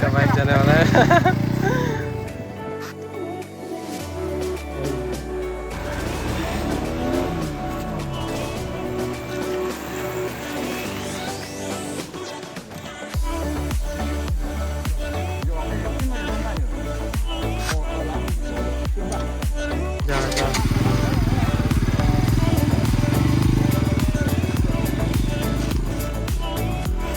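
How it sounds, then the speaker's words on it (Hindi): A motorcycle at an evening stunt session in Karbi Anglong revs and idles, then its engine rises and pulls away, running continuously with loud, shifting drone while people talk over it. "अब इसका बाइक जाने वाला है।"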